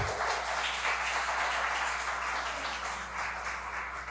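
A church congregation applauds at a couples' course service, a continuous, moderately loud spread of clapping that stays even and slowly eases off toward the end.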